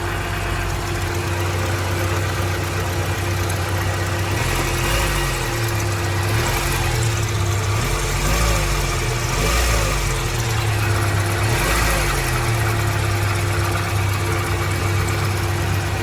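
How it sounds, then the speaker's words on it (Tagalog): A Toyota Corolla engine idles steadily with the dipstick pulled, giving a constant close mechanical hum with slight low rhythmic pulsing and no one speaking. "Matining ang andar"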